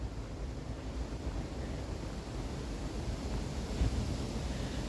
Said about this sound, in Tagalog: Naririnig niyo po yung hangin?